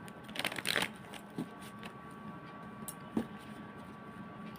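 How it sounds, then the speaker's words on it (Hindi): Tarot cards shuffled by hand at close range, a dense riffling burst near the start followed by a few soft, isolated card taps over a quiet room background. "तो चलिए जब तक मैं शफलिंग करूँ आप लोग प्लीज़ पॉजिटिव रहिएगा।"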